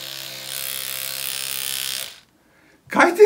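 An electric toothbrush buzzes steadily for about two seconds, then stops; after a short silence a brief rattling burst follows.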